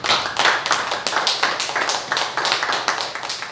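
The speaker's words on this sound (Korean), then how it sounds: "우리 하나님께 박수." A church congregation clapping together in a quick, steady rhythm, loud and close, continuing without pause and with no talking over it.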